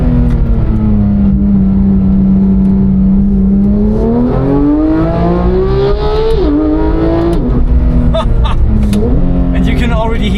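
A Porsche 911 GT3 of the 991.2 generation on the Sustenpass mountain road, its engine droning at a steady pitch before climbing and falling through revs in rising sweeps, loud and close, with a person's voice faintly mixed in.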